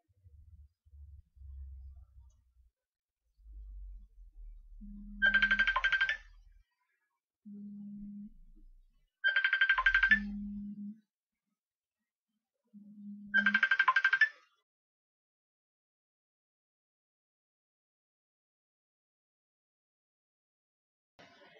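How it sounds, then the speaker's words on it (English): A phone ringtone chimes in three short bursts, each paired with a low buzzing pulse, then stops; quiet in between, no talking. "Oh, someone's ringing me."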